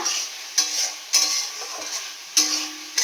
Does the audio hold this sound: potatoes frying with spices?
yes